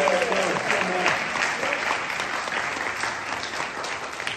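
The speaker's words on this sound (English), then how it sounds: "let's clap it up for Roger" Sunday service congregation clapping for Roger, a steady, fairly dense round of applause from a crowd, moderately loud and unbroken, with a voice briefly audible at the start.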